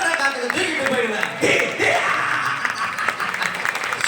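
An audience at a live mimicry show in a Muscat hotel claps steadily, with a broad sustained patter of hands under a loud voice speaking over the applause.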